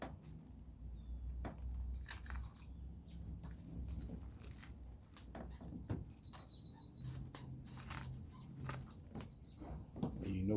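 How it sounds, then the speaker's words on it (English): Small birds chirp in scattered short bursts around a spring yard, fairly faint against a steady low outdoor rumble and a few rustling sounds. "you know it's spring when the birds are chirping and messing around in your yard"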